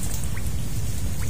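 Steady rain pouring down outdoors during a cooking session in a Philippine katunggan mangrove area, a dense continuous patter of drops on surfaces, loud and unbroken.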